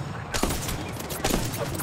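Bursts of gunfire in a battle royale shooter video game, a dense volley starting abruptly and recurring in quick cracks over a steady background, with no talk.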